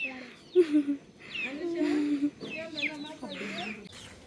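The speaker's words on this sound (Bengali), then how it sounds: "এই যে মুরগিগুলো সব একসাথে জড়ো হয়ে গেছে, ঘরে যেত।" Chickens flocking together at about six in the evening as they head back to their coop give close, repeated clucks and short calls in bursts across the whole stretch.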